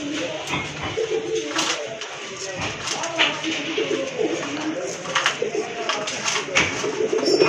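A silver gorder pigeon coos in soft repeated throaty calls nearby, mixed with light shuffling and taps, while someone talks over it.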